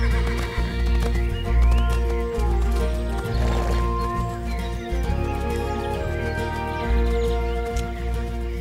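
A Freiberger horse, a Swiss breed, whinnies loudly and repeatedly close by in the Jura Mountains while hooves clip-clop beneath, the calls rising and falling over several seconds with no speech.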